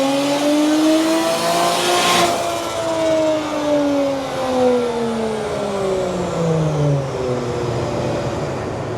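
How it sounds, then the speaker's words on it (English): A BMW 335i revs hard on a dyno during a mapping run, engine pitch rising and falling in long continuous sweeps, loud and close with a steady roar throughout. "One of our customers is using the dyno to map his car."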